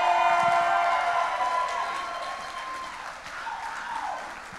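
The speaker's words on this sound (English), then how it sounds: "A round of applause for that." Wedding guests applaud after a toast at an evening reception, a dense crowd of clapping that starts full and close, then slowly thins and fades over several seconds.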